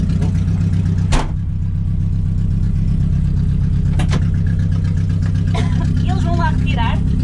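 A Citroen AX race car with a missing exhaust tip drones loudly and steadily on the Vasco Sameiro circuit in Braga, with a couple of sharp knocks and voices talking near the end.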